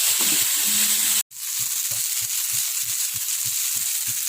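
Greens and potatoes stir-fry in garlic-tempered oil with turmeric, a steady close sizzle broken by a brief gap, then regular scraping stirs repeating about twice a second.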